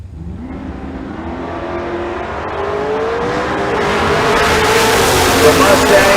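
A Mustang drag racing car at Tucson Dragway accelerates hard, its engine pitch rising steadily as the roar grows louder over several seconds.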